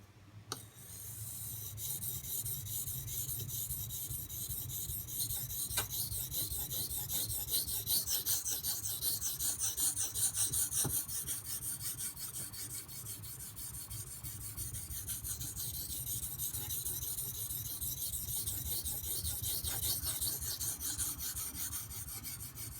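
A knife is sharpened on a Norton 4000-grit water stone, giving a steady, close rasping scrape of steel on wet stone with rhythmic back-and-forth strokes that run nearly continuously and unbroken, with no talking.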